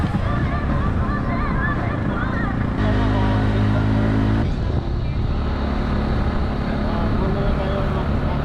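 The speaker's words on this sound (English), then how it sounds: "these are my foreigner friends who's riding a tricycle right now" A motorized tricycle rides through Tagbilaran, Bohol, in the Philippines, giving a steady, close engine rumble with wind buffeting across the microphone throughout.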